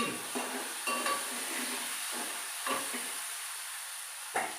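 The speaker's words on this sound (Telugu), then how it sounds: "కొంచెం మగ్గనిచ్చి వంకాయ ముక్కలు వేస్తున్నాను" Brinjal curry with tomato and onion cooking in a pan: a low sizzle under repeated scraping stirs and clinks of a spoon against the pan, close and fairly soft.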